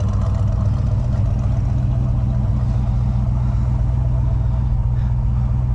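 A 1978 GMC Sierra Classic with a 350 small-block V8 rumbles at a steady low idle, its thick, even burble close and constant from start to finish.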